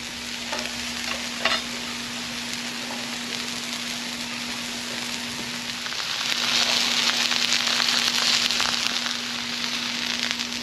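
Onions sizzling and charring in a hot pan, a steady close crackle that grows denser and louder midway, with a constant low electrical hum underneath and no talk.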